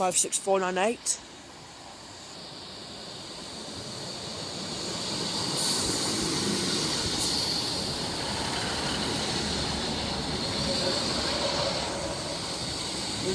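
A passenger train from Sleaford to Lincoln Central rumbles past with steady broadband noise and a brief squeal of wheels, preceded by a short burst of voice at the start.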